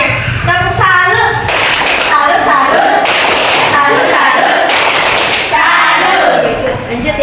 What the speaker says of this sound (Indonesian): Tepuk semangat. Tepuk kasih tepuk untuk semuanya. Tepuk salut.